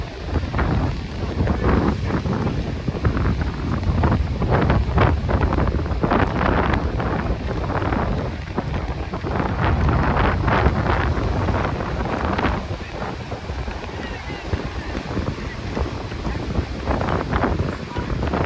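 Strong offshore wind buffets the microphone at a beach launch for the Worrell 1000 boat race, a steady loud rumble with gusty swells over possible surf and faint voices.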